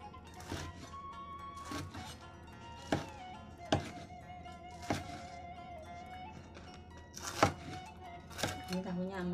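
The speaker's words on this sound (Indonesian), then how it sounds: "Potong tahu sesuai selera ya" A knife chopping soft fresh tofu on a board for spicy Cirebon tahu gejrot, with about ten separate sharp thunks at uneven intervals, fairly faint, and a voice speaking now and then between the cuts.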